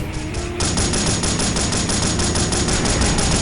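Rapid bursts of automatic gunfire in the video game Delta Force: Black Hawk Down rattle continuously, loud and dense, after a brief quieter moment at the start.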